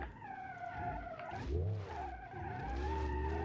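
Tires squealing as a V16-powered Delta II car drifts in BeamNG.drive, a wavering screech over a deep engine roar that swells mid-way and holds steady, close and loud.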